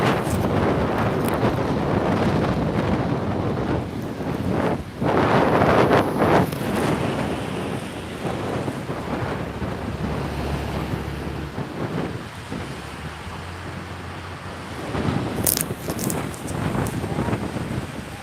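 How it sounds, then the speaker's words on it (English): Strong wind from tropical storm Nicole on the coast at Saint Augustine, Florida, a loud continuous roaring rush buffeting the microphone with gusts swelling and easing, surf-like noise underneath. "The wind is picking up."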